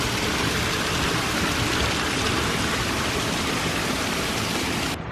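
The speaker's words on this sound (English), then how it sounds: "We literally haven't even gone through the gate yet, and it's just started raining." Steady rain falls in a continuous loud hiss beside a canal lock on a narrowboat trip, alone and unbroken until it cuts off at the very end.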